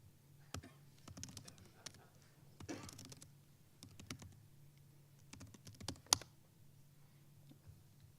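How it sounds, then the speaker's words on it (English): Someone types a search query on a computer keyboard, light scattered key taps and clicks close to the mic with a faint low hum, then a sharper click near the end. "if I went to Bing and typed in"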